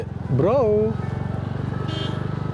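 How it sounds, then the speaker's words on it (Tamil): A two-wheeler motorcycle on a Manali road gives a steady, close engine drone with pulsing low rumble, broken early by a brief swooping, horn-like tone. "ப்ரோ வண்டி தான் வருது"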